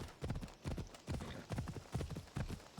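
Horse hooves clip-clop in a steady rhythm in Assassin's Creed Odyssey, close and clear through the whole stretch, with no talking over them.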